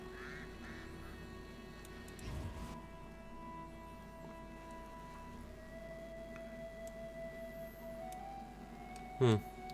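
Geese honk in The Witcher game, a few scattered calls and a brief loud squawk near the end over a steady game ambience and music.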